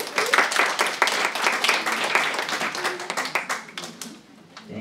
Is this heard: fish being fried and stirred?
no